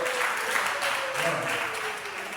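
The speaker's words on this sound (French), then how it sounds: "Applaudissez-moi." Audience at a French-language testimonial gathering applauds in a short, steady burst of clapping, fairly loud and continuous with a murmur of voices mixed in.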